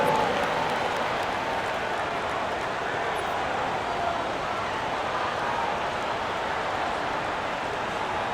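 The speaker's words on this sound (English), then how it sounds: "Give them a round of applause for your fifth Clippers." Steady broadband crowd applause and cheering in an NBA 2K25 basketball game, 76ers versus Clippers, filling the whole stretch at an even level with a faint commentator voice underneath.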